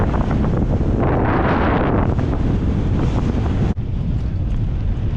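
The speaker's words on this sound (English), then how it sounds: "Oh, the wind is blowing in our faces really fast." Strong, steady wind roars across an outdoor microphone during an uphill ride near Gainesville in Cooke County, Texas, a loud buffeting rush that fills the whole stretch with one brief dip.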